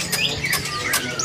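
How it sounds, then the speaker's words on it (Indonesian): A green leafbird from East Java (Banyuwangi stock) calls at a bird market, giving several short, bright whistled chirps and rising notes over a steady low market murmur. "Berikutnya ada burung cicak hijau."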